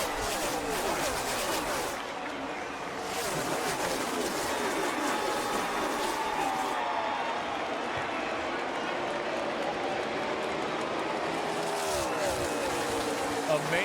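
Dense roar of NASCAR race car engines, 43 cars circling a track at a restart, mixed with a large stadium crowd of roughly 60,000 cheering; a continuous, loud wash under steady commentary voices.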